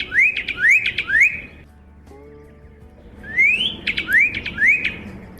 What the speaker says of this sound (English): Just as the Pyrrhuloxia's appearance is similar to the northern cardinal's,